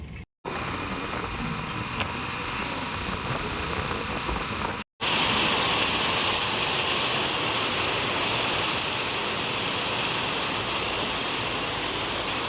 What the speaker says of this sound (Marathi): थोडंसं निरा रोडला थांबून आपण पाऊस दाखवण्याचा प्रयत्न करणार आहोत